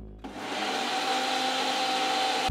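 A blender whirs steadily while blending a banana and peanut butter smoothie, a loud continuous motor drone that starts abruptly and runs close-up for about two seconds before cutting off, with no talking.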